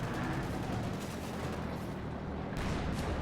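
A Panzer IV's short 75mm gun fires in a World War II video game battle, a heavy booming blast amid dense, continuous rumbling gunfire and explosions, loud and close throughout.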